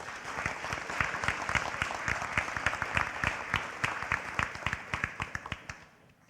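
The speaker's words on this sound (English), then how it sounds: "let's give them all a round of applause" An audience at a senior awards ceremony claps for students walking up, a dense, steady round of applause lasting several seconds before thinning and fading out at the end.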